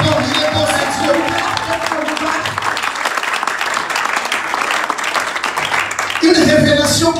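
A large church congregation applauds and cheers loudly and steadily during worship, a dense wash of clapping with voices rising in the crowd throughout.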